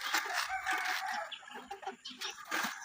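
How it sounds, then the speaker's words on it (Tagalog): Backyard chickens at morning feeding time, a busy mix of overlapping clucks and crowing calls, moderately loud and continuous. "That's the chicken guys."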